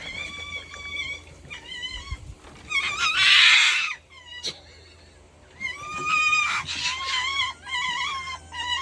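Foxes at feeding time scream at each other in repeated shrill, wavering wails and yelps, loud and close, with bursts of harsh screeching in between.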